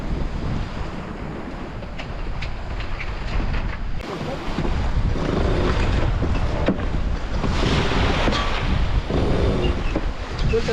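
Sailboat under way on the open sea on a passage toward Lanzarote, with a following wind: steady, loud wind rush on the microphone over sloshing waves and hull noise, swelling louder in the second half, with no talk.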